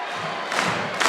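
Arena crowd noise from a WWE 2K24 wrestling match, a steady broad wash of fans with two louder swells of cheering and clapping as a wrestler fights out of a modified camel clutch submission hold.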